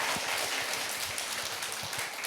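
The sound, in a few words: audience applause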